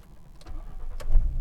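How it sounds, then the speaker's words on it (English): A 2012 Ford Mustang V6 engine cranking and catching into a low rumble after an oil and filter change, short and close. "Start her up."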